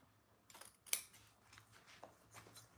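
Scissors snip through fabric in several short, crisp cuts, one sharper than the rest, cutting out a patch with a margin around it in a quiet room.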